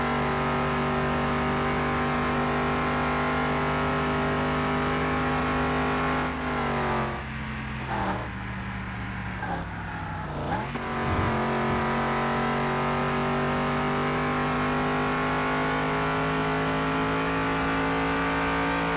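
A worn car engine in Car Mechanic Simulator 2021, idling with a steady loud drone, briefly revved and dipped midway before settling back to a constant hum.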